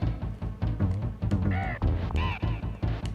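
An enemy bird in Donkey Kong Country on the Super Nintendo squawks in a string of harsh, repeated caws over bouncy game music, loud and close.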